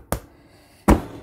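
Two sharp punches from a craft border punch cutting through paper, a loud snap followed by another about three-quarters of a second later, close up with no talk.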